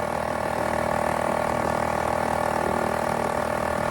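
A 1972 Honda SL70 small motorcycle engine running while being ridden, a loud, constant buzzing drone close to the listener with no pauses.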